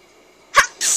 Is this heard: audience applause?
no